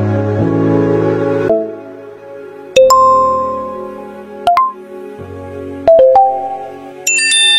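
Phone ringtone for an incoming call, a loud electronic melody of bright chiming tones that plays in separate phrases with short gaps between them, with no talk over it.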